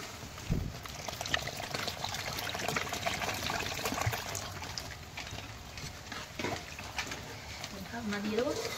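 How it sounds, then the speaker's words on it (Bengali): Water is poured into a pot of boiled lentils, giving a steady close splashing trickle with birds chirping in the background and a voice speaking briefly. "এবার জল ঢেলে দেবো।"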